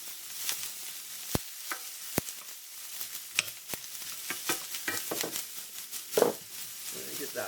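A cup of diced onions sizzles softly in avocado oil in a warm pan over low-medium heat, a quiet close crackle broken by a few sharp clicks and stirring taps.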